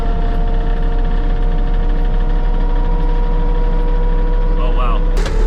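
A rented forestry mulcher's engine roars under load while clearing raw land, a loud, steady droning hum holding throughout with faint voices beneath.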